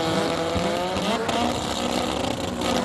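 Sport compact race cars at a winter nationals drag event rev their engines hard at the start line, a loud, sustained rising engine roar with some tire noise, close and continuous.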